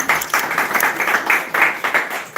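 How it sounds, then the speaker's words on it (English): An audience at a London tech startup event claps in a burst of close, crisp applause, with individual hand claps audible in an uneven rhythm and no talk over it. "Round of applause, please."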